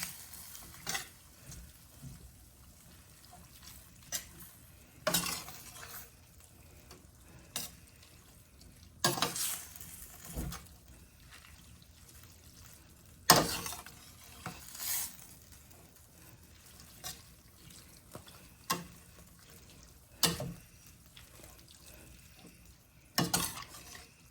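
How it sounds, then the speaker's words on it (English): Noodles being stirred and reheated in a pan for an Asian-inspired dish with ham, with soft sizzling broken by sharp utensil scrapes and clinks recurring every few seconds, close and fairly quiet. "Get the noodles all heated through again."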